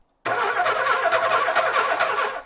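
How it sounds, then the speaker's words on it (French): A car's engine cranks steadily for about two seconds in a continuous, churning whir that never catches, starting abruptly after a moment of silence. "catastrophe, la voiture ne démarre pas"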